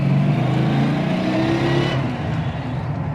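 A 1978 Pontiac Firebird Formula with a 400 V8 and four-speed pulls hard in first gear to about 40 mph at roughly 4,200 RPM, its loud engine roar climbing steadily, then easing off near the end.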